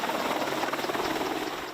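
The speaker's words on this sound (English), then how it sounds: "Minutes later, 3 more choppers arrive to gas up." Military helicopters, among them an Apache, a Black Hawk and an OH-58D, arriving at a refuelling point during a Han Kuang exercise; a steady, loud rotor and turbine roar with a fast beating texture fills the whole stretch with no speech.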